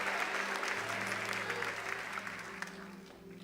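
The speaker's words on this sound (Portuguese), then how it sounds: "Você consegue aplaudir ao Senhor pela Sua palavra agora?" Church congregation applauding during a sermon, a broad, even wash of clapping from a large room over a low electrical hum, gradually thinning and fading toward the end.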